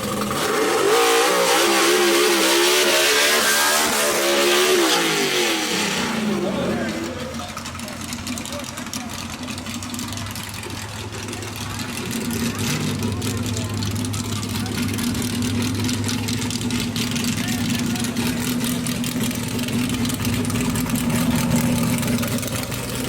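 Gasser drag racing cars rev hard at Brainerd Motorsports Park in a Southeast Gassers Association race, a loud roaring run that drops into a lower, rumbling engine drone, with a commentator talking over it.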